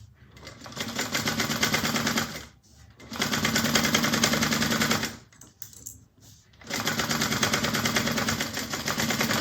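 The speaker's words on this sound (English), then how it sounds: "we're going to sew that on at 1/4 inch seam allowance" A sewing machine stitches a zipper pocket seam at a quarter-inch allowance in three rapid, rattling bursts, separated by short pauses.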